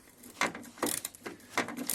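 A short ratchet wrench clicks in short bursts, tightening nuts on a Peugeot 206 door check strap, several quick ratcheting strokes close by with brief pauses between them.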